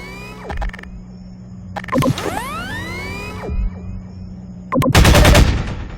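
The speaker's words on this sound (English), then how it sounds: "Now, take out the firearm of your choice and shoot the device." Bursts of automatic gunfire and sharp shots aimed at a device on a Strider in Half-Life 2: Episode Two, with sweeping whooshes between them and a heavy, rumbling final barrage near the end.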